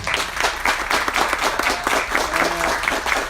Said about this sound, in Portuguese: Eu gostaria de agradecer, uma salva de palmas aqui.